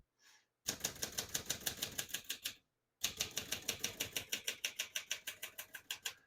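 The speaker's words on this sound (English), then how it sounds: "As you can see, all the keys type nice and none of them skip or stick." Keys clacking on a 1966 Hermes 3000 portable typewriter in two quick bursts of steady, even keystrokes with a short pause between, close and clear with no talking.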